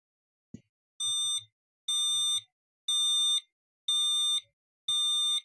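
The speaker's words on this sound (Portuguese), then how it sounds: "Vou colocar o microfone mais perto do buzzer aqui para poder captar." An Arduino-driven buzzer sounds five identical high-pitched beeps, each about half a second long, evenly spaced with short silences between them, after a brief click.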